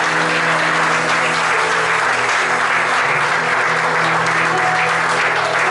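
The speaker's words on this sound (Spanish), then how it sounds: "Dale un aplauso al Señor" A church congregation applauds in praise during worship, a loud, unbroken wash of clapping from many people that holds steady throughout.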